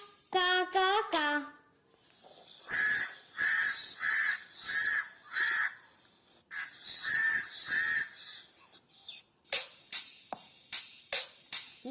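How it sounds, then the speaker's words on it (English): Crows caw loudly and close by in a rapid series of harsh, repeated calls. Several bursts of cawing come in quick succession, with short gaps between them. "Crow says ka, ka, ka, ka."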